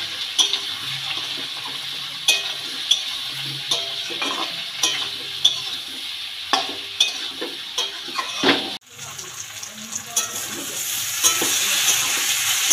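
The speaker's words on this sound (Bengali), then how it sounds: "সব মশলাগুলো দিয়ে এঁচোড়টাকে খুব ভালো করে আমি কষিয়ে নেব।" Young jackfruit frying with chilli, cumin and Kashmiri chilli powder, a steady close sizzle broken by repeated sharp scraping stirs and clatters, with a brief pause before the frying hiss swells again.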